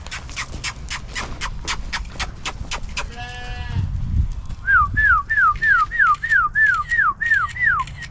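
A person whistles a series of short rising-and-falling chirps to get a goat's attention for a photo, repeated rhythmically and up close, after a run of clicks and a brief bleat-like call from the animal.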